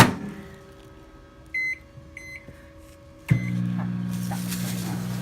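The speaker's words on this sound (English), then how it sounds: "we're going to melt it in the microwave for 90 seconds" A microwave oven melts a Butterfinger candy bar, with beeps from the keypad, a faint thump, and then a steady hum as it starts and runs close by.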